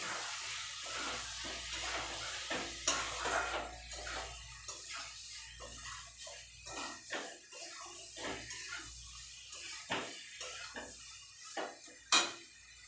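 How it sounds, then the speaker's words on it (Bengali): A utensil scrapes and clatters against a pan as spices, biryani masala and salt are stir-fried for egg biryani, in a steady run of close metallic knocks and scrapes. "ভালো করে মশলাটা কষাবো, একটু নুন দিয়ে দেবো।"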